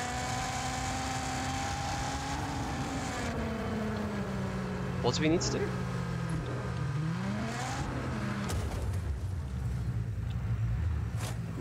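A car engine in the video game Just Cause 4 drones steadily, its pitch rising and falling as the vehicle speeds up and slows, with someone talking over it throughout.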